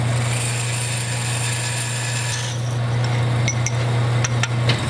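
A power saw with a finer blade cuts steel on the flat bed of an XP camper, giving a loud, continuous whine with a steady hum beneath it and a few sharp metallic clinks toward the end.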